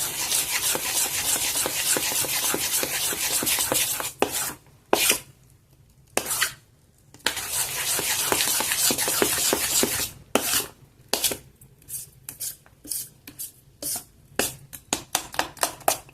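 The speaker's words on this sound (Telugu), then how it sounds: "ఇది ఒకసారి అంతా బాగా కలుపుకున్నాక" Oats dosa batter being mixed by hand in a bowl, close wet squelching and rubbing strokes in long runs, with short pauses and then quicker, choppier bursts toward the end.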